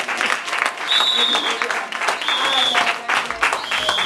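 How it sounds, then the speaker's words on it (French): A church congregation applauds for Jesus: sustained, loud clapping from a crowd, mixed with voices and cheering throughout. "Est-ce qu'on peut acclamer pour le Seigneur Jésus?"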